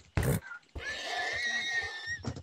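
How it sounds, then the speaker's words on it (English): A horse neighs in a video game, a sharp whinny held for over a second between brief loud bursts of noise, with speech faintly present. "No, you killed the horse."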